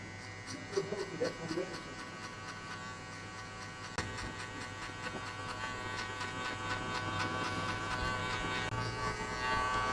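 An electric hair clipper fitted with a half guard hums quietly and steadily while cutting hair during a high-fade buzz cut, a soft constant buzz that swells slightly toward the end.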